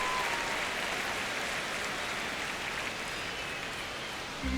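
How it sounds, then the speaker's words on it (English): Baseball crowd at Dodger Stadium during a spring training game between the Los Angeles Dodgers and the Athletics, a dense, steady murmur and roar of many fans throughout, with no clear talking on top. "Just underway, crowd getting settled here at Dodger Stadium."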